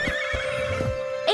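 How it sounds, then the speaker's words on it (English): A horse neighs, a loud, close whinny that runs unbroken from start to finish and ends in a rising squeal, alone without voices. "H is for horse."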